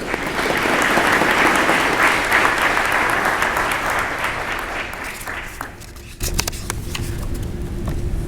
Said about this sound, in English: Ladies and gentlemen, please join me in a round of applause for our guest of honor,